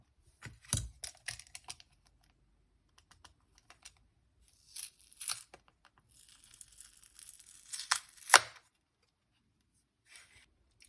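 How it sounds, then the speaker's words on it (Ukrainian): Protective glass being peeled and pried off a Nintendo Game Boy Color screen during an IPS screen install, heard as several bursts of crinkly scraping and tearing with short clicks and a sharp snap near the end, close and alone. "Також потрібно зняти захисне скло, так як новий екран трошки менший по розміру."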